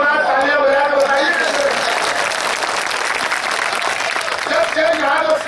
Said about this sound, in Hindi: तालियां बजा के बताइए।